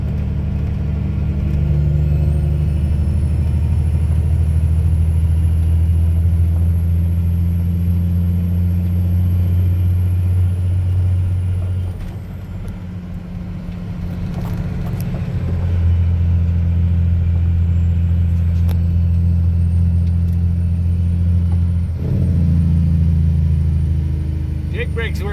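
Diesel truck with a Cummins N14 engine driving down the road at operating temperature, a loud steady drone and rumble with engine whine, easing briefly mid-way and then building again.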